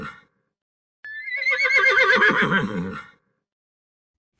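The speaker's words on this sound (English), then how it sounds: "Horse." A horse gives one loud, clear whinny lasting about two seconds, rising then trembling downward, heard alone with silence before and after.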